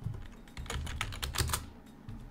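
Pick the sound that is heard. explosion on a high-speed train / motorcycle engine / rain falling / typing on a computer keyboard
typing on a computer keyboard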